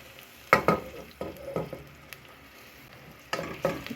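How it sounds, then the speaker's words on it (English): Onions fry in oil in a pan under a low sizzle, broken by a few sharp scrapes and clatters of stirring spaced across the moment, close up and without talk. "Then fry the onions well."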